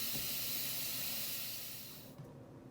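An Instant Pot pressure cooker venting steam after cooking chicken gives a loud, steady hiss that cuts off abruptly near the end, leaving a quieter background with a faint click.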